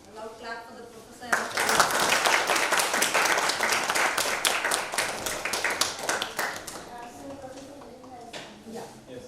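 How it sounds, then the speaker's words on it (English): Audience applause for a professor at an architecture lecture on designing two urban blocks in Brandevoort, Netherlands: a dense burst of many hands clapping, rising quickly and holding loud for several seconds before thinning out, with scattered voices underneath. "So, a loud clap for the professor."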